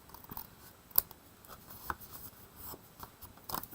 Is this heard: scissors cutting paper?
yes